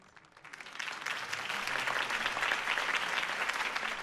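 Crowd applause erupts after a campaign speech in the Batman Telltale video game, swelling quickly from a quiet start into sustained, dense clapping heard at a moderate distance.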